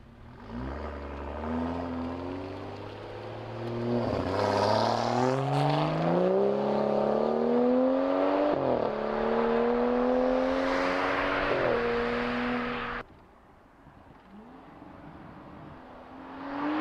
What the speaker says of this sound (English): For a BMW, a standard one, pretty much sounds really good.